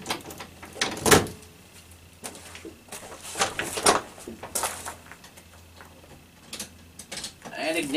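A key works the door lock of a 1973 GMC truck that sat unused for 13 years, giving a handful of sharp metallic clicks and rattles spread over several seconds, close by, with quiet background noise between them.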